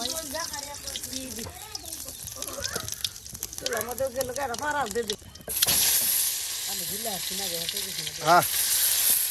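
Eggs dropped into hot oil in a pan for a village-style egg bhuna set up a loud, steady sizzle that surges partway through and then keeps going, with a voice talking over the start.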